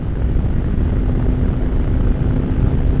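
An XPulse 210 motorcycle carrying a heavy payload pulls in 6th gear without downshifting, its engine giving a loud, continuous low drone with an even throb and no voices.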